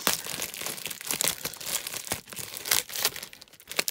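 Crisp, close-up crinkling and ripping of paper and packing tape off a parcel, in quick irregular bursts with no talking.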